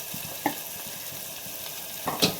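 Onions sizzle in a hot pan for Islampur-style whole masoor curry, a steady close frying hiss broken by a few sharp scrapes and clinks of stirring.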